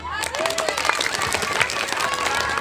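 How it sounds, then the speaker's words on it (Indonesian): A short burst of applause from a school audience at an inter-class storytelling contest, quick scattered clapping and some cheering heard close, with voices mixed in. "Tepuk tangan."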